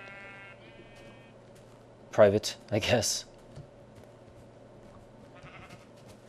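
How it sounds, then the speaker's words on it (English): Sheep bleat twice in a blocky survival video game, two short wavering calls close together over quiet background tones and soft game clicks, with someone speaking briefly. "Come here, sheep."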